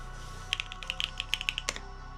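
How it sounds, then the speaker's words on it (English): Typing on a Vertex Arc 60 mechanical keyboard fitted with Aloe switches: a quick run of about a dozen crisp, close keystrokes with no talking. "I can finish off with another typing test"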